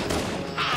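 Gunshot in Halo Anniversary co-op on Legendary difficulty, landing as a headshot: a short burst of dense broadband gunfire-like crashing, loud and close, lasting under a second.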